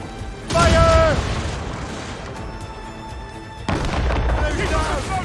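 Ship cannons firing during a naval battle in Assassin's Creed Rogue, a heavy boom followed by rumbling, then a second blast a few seconds later, mixed with shouted voices and battle noise.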